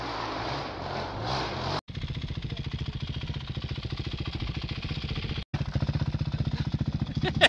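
A motorcycle carrying two riders runs with a rapid, rhythmic engine pulse, fairly close and steady, briefly cut off twice. Voices shout over it near the start.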